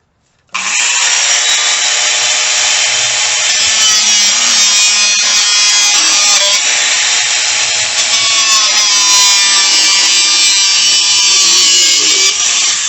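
Wood is rubbed by hand with sandpaper in a continuous, steady scratching that starts abruptly and runs on close and loud without pause, no voices over it.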